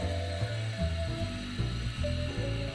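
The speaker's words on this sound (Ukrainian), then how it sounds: "Відкрутили баранця раз, відкрутили баранця два." Wing nuts being unscrewed on a milling machine, a run of ratcheting mechanical turns with tonal squeaks and clunks, close and fairly loud, no talk.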